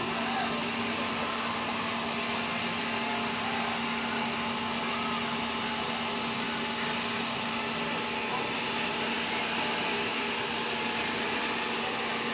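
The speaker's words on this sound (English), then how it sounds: "What a motor." Large Haughton hydraulic elevator pump motor at Genesee Valley Mall in Flint, Michigan, running as a loud, steady drone with a strong hum, continuous and unbroken throughout.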